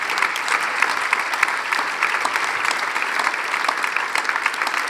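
An audience at a debate event applauds, a dense, even, continuous clatter of many hands clapping close and loud throughout, with no voices.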